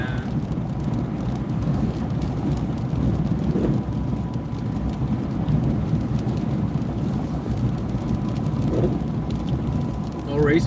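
Steady rain falls on a Sunday in a broad, even wash that runs the whole time without a break, with people talking quietly beneath it.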